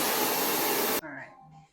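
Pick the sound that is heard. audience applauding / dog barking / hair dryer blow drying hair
hair dryer blow drying hair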